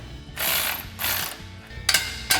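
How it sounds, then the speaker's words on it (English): A 17mm socket and wrench tighten exhaust hardware on a 2015-2020 Ford F-150 during a 4-inch single exhaust install, giving several quick ratcheting bursts with short pauses between them, close up and with no talking. "Now we can take a 17mm socket and 17mm wrench to tighten down our hardware."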